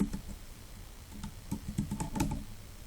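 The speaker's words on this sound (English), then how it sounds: "So I started on my keyboard just typing the word infinity" Someone types a single word on a computer keyboard, a short quiet run of soft key clicks at an uneven pace, close by with no voice.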